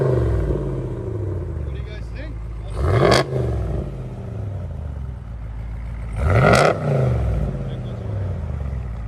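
A RAM 2500 Power Wagon with a 6.4-litre engine and modified exhaust idles with a deep rumble, then revs sharply twice, each loud blip rising and falling, heard close with voices in the background.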